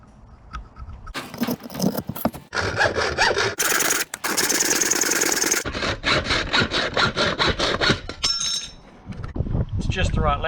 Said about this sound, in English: So I'll cut it in half and then shape it down a little bit, make it a bit narrower